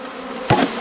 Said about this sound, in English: open this bee package and get all the bees in rapidly